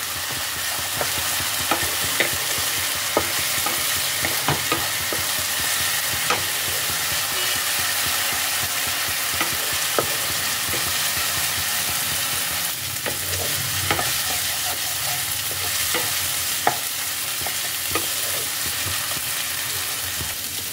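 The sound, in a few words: ginger garlic paste frying in oil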